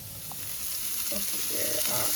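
Sausages fry in a pan with a constant, close sizzle and crackle, a little stirring or shuffling mixed in, no talking.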